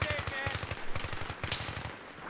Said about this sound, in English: I'm being shot at from somewhere else.